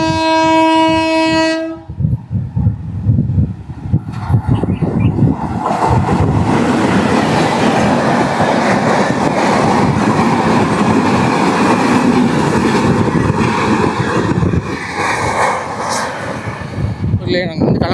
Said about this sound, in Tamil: இப்போ ட்ரெயின் வேறு வருது பாருங்கள் நம்மளே.